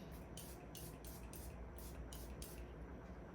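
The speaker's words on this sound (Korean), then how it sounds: "요즘에 제가 메이크업 할 때 무조건 무조건 사용하는 세팅 스프레이" A makeup setting spray bottle is pumped in quick succession, about seven short hissing bursts in a steady rhythm, close but very quiet.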